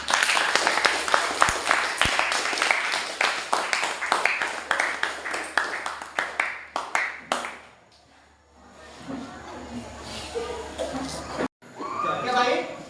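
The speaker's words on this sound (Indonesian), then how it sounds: "Tepuk tangan untuk kelompok 2" Classroom applause for a student group after a presentation in an 8th-grade social studies lesson, a run of uneven hand claps that thins out before voices talk in the room.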